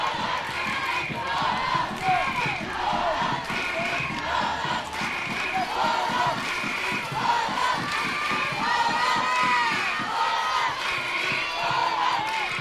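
A crowd at the final baseball game between the Netherlands and Italy cheering and chanting, a dense continuous roar with rhythmic clapping or drumming pulses underneath, steady and loud from a distance.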